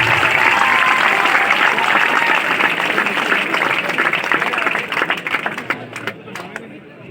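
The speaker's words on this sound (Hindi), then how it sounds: "मैं चाहूंगा जोरदार ताली से आप उनका स्वागत करें।" A crowd at a public gathering in India applauds to welcome an arriving guest, with loud, sustained clapping that gradually thins and tapers off toward the end.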